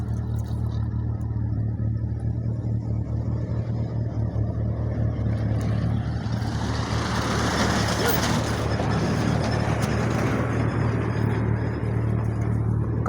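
Trucks drive past near a shop in Yakutia with a heavy, continuous engine rumble that swells louder midway as a vehicle comes close, while people talk over it.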